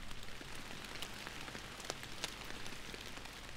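Heavy rain in the fishing video game Fishing Planet, a steady soft hiss of dense drops with scattered louder patters, continuous and fairly quiet.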